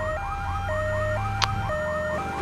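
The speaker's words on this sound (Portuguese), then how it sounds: "Polícia, meu Deus. Ambulância descontrolada" A GTA 3 video game ambulance siren wails in a steady rising-and-falling pattern, loud and close, with a brief sharp click partway through.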